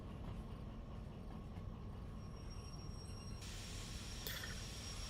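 A train in Derail Valley rumbles steadily as it brakes to a stop, with a constant low roll of wheels and a high brake squeal that rises near the end.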